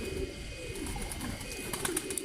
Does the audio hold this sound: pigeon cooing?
yes